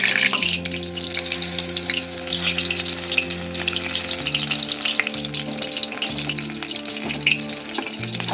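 Water lily (shapla) fritters in thick batter frying in hot oil, a steady close sizzle with bubbling crackle that runs the whole time, faint stirring and spoon clinks underneath.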